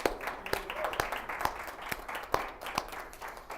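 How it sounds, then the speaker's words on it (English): A small group welcomes a new SHPE chapter with scattered applause, sparse individual claps landing at irregular intervals over a quiet room, light and close rather than a full ovation. "So just a round of applause for you guys."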